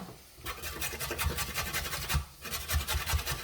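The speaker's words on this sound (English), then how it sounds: "then we'll grate a little bit of carrot and beetroot" A carrot is rubbed against a hand grater in quick repeated rasping strokes, close and crisp, with a brief pause midway before the scraping resumes.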